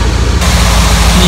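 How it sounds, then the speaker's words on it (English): A loud, steady whooshing hum of a BMW E30's radiator cooling fan running close by, with low rumbling underneath and no talking. "Can you hear that? That's the sound of the fan going."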